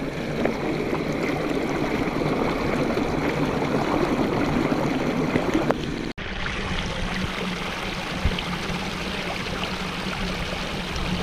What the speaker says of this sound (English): It all comes down into more of a creek, and if you see this, this is one of those alpine creeks we talked about.